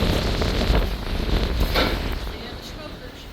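Wind blows hard across the open outer deck of the Carnival Panorama cruise ship at sea, buffeting the microphone in a loud, continuous roar with a brief gust near the middle.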